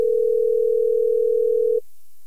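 A steady telephone dial tone hums alone, close and loud, for nearly two seconds before cutting off abruptly, heard while calling a guest back on a radio show.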